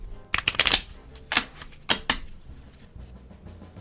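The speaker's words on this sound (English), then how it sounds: "A riffle shuffle into one pile, right there on the table." Playing cards riffle shuffled on a table, a quick fluttering burst of card clicks followed by a few softer riffles and taps as the deck is squared.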